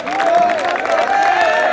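Audience applause at a Hindi comic poetry gathering (kavi sammelan) honouring a poet from Lucknow: dense, steady clapping from a crowd that fills the whole stretch at even loudness, with a faint sustained tone running beneath it.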